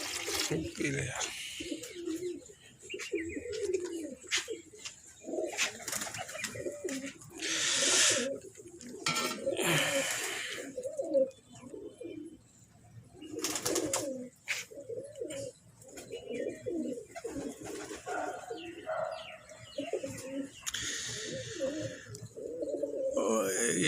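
Pigeons coo repeatedly around a rooftop where a flock of about forty roosts, soft throaty calls recurring throughout over light rustling, with someone talking intermittently among them.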